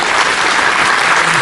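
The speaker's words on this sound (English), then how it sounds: "Big round of applause for Michael" A live audience applauds a speaker named Michael at a panel discussion, steady dense clapping filling the whole moment at close, loud level.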